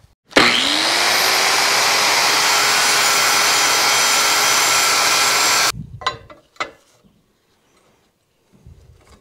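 An angle grinder grinds a metal part flat on a Caterpillar D4 bulldozer rebuild, a loud steady whine held for about five seconds before it cuts off, followed by a few clanks and faint handling noises.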